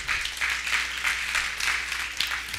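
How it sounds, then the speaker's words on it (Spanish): Church congregation applauding in praise during a Spanish-language sermon, a steady wash of clapping held for the whole stretch without letup, moderately loud and fairly close. "Dale un aplauso al Señor."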